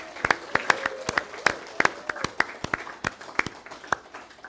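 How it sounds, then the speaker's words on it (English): A church congregation claps at a Sunday service, sparse and uneven, with individual hand claps standing out sharply over a thin background of voices. "Let's give them a round of applause."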